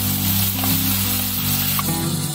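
Chopped onion hits hot oil with cumin in a dhaba-style paneer bhurji, a bright, steady sizzle over a low hum that lasts a couple of seconds with no talking.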